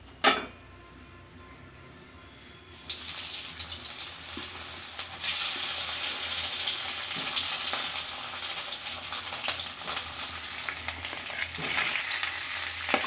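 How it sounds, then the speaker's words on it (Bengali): Boiled potatoes go into hot oil in a pan after chillies were fried, setting off a steady, loud sizzle that starts abruptly after a quiet moment and continues crackling, with no one talking. "এবার আমি ওই তেলে আলুটা একটু ভেজে নিব।"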